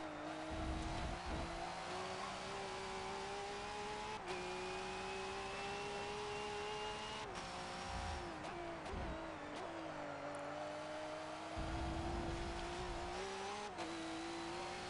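A V8 Supercar in the Forza 7 racing game laps Laguna Seca. Its engine drones loudly and continuously, with rising revs that repeatedly drop at gear shifts. There are brief tire noises.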